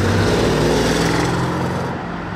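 A Brabus-tuned Mercedes S-Class moves past on a street during a car-spotting outing, its engine giving a steady, loud rumble that holds for a couple of seconds before easing slightly as it goes by.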